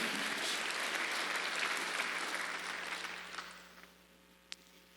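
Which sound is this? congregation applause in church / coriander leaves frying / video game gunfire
congregation applause in church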